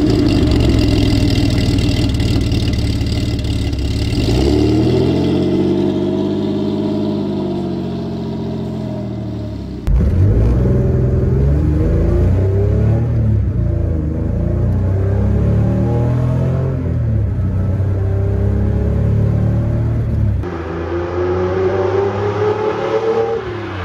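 A Lancia Stratos sports car engine roars and revs hard in several loud bursts, climbing and falling in pitch between gear changes, close and alone with no talk.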